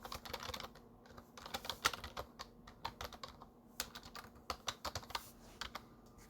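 Rapid typing on a computer keyboard, dense irregular bursts of close clicking keystrokes with brief pauses, quiet and alone without talk.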